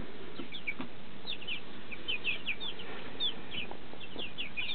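French Black Copper Marans chicks, about five and a half weeks old, peep and cluck softly outdoors by their new coop, with rapid high chirps coming in scattered clusters over steady background noise.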